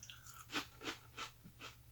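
Homemade fried rice Chex snack crunched up close, with four or five soft, evenly spaced bites and chews, quiet with no talking.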